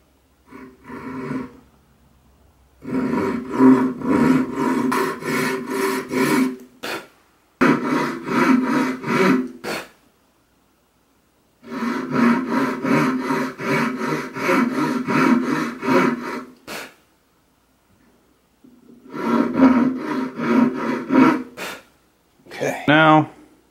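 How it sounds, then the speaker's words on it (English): Hand saw cutting string slots into the nut of a gourd banjo, heard as several bursts of rapid back-and-forth rasping strokes separated by pauses, fairly close and prominent, with a voice speaking in between. "And we'll just start cutting."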